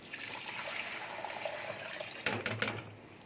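Boiled water pours into a cooking pot in a home kitchen for Egyptian koshari, a soft continuous trickle that ends in a brief splashy burst, fairly quiet and close.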